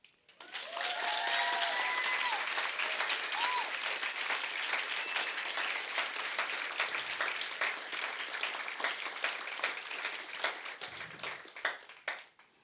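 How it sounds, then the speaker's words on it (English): Audience applause following a youth poetry slam performance, starting abruptly and sustaining as a full, even burst of many hands clapping before trailing off, with a few faint whistles or cheers mixed in. "can you get that round of applause started up again"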